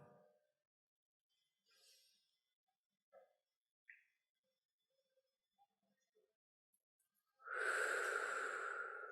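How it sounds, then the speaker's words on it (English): One long, breathy exhale through the mouth follows a near-silent stretch of faint soft breaths and small sounds in a calm guided-breathing session. "just begin to take some nice deep breaths. And we're breathing in through the nose and out through the mouth"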